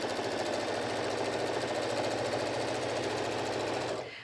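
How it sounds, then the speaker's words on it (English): A sewing machine stitches around a fabric-scrap wallet, a fast steady mechanical chatter at close range that runs continuously before stopping abruptly at the end. "here I'm just sewing all the way around this"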